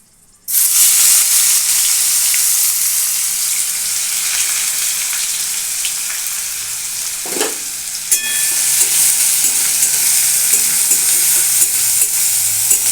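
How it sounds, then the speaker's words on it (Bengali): Chopped onions dropped into hot oil with torn bay leaves and dried red chillies, bursting into a loud sustained sizzle, with a spoon scrape partway through as frying carries on steadily. "কেটে রাখা পেঁয়াজটা আমি একটু ভেজে নেব"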